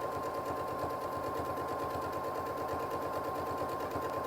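A sewing machine stitches at a normal 2.5 stitch length, a steady close mechanical hum with a fast even pulse of the needle running without a break.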